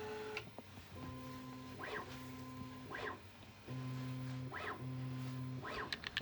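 An A1 Mini 3D printer runs its calibration, giving steady tonal motor whines with repeated rising sweeps, soft and close in a quiet room, with no talking.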